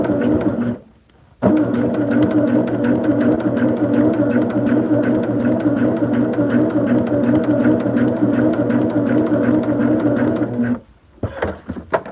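Sewing machine stitching quilt pieces for a modern sampler quilt, a steady rapid mechanical whir running for about nine seconds between short pauses, close and fairly loud with no talking.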